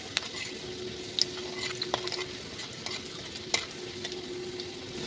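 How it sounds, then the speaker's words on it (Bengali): Garlic fries quietly in white oil in a wok with a soft, steady sizzle. A few sharp clinks and scrapes of stirring break through now and then. "রসুনটা একটু লাল লাল করে ভেজে নিতে হবে"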